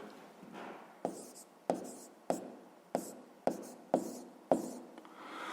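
Pen or chalk strokes mark out a fraction during a sixth-grade maths exercise, in a series of about eight sharp taps with short scratchy writing between them, close and fairly quiet.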